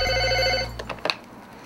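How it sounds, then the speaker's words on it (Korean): A telephone rings on an outgoing call with a single sustained electronic ring tone, close and clear, then cuts off into a few faint clicks. "순식간에 불안한 기운에 휩싸인 박준호는 급히 어디론가 다시 전화를 거는데."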